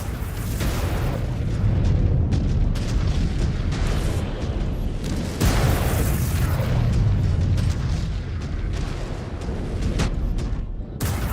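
Missiles explode in the MechWarrior 5: Clans video game, heavy booming blasts rolling one after another over a dense, continuous rumble of battle, loud and close throughout.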